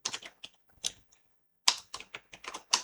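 Computer keyboard keys tapped in quick bursts, a few clustered strokes, a pause, then another rapid run of crisp clicks, close and fairly quiet with no talking.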